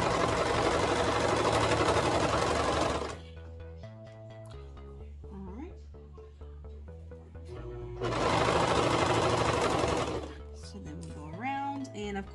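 A sewing machine stitching a hoodie seam with binding strip runs in two loud, fast, steady bursts, and someone talks in the quieter stretch between them.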